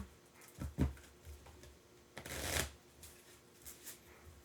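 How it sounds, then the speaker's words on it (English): Soft riffling and shuffling of a deck of game cards for Marvel X-Men Dice Throne comes in several short, close bursts, with the longest flurry near the middle. The bursts are quiet and there is no talk. "Alright, nobody get mad at me for how I shuffle."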